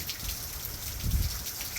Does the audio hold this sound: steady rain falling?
yes